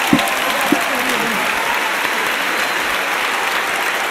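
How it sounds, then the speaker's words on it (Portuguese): A church congregation applauding in praise during a Portuguese-language sermon, loud sustained clapping from a large crowd filling the room, with a couple of sharper claps near the start. "Forte aplauso ao Senhor."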